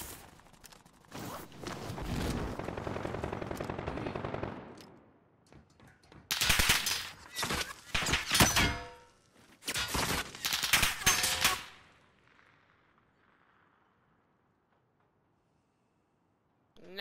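Bursts of Call of Duty gunfire in a Rebirth Resurgence battle royale match: a sustained volley, then several sharp rapid automatic bursts in quick succession, loud and close, trailing off into near silence at the end.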